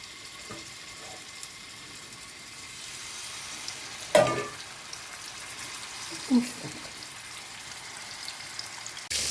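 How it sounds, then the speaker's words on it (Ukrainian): Chicken drumsticks frying in oil in a large pan, a soft, steady sizzle running underneath, broken by a couple of sharper clatters as pieces are moved around. "Гомілочки виставляю вже в сковорідку, щоб смажилися."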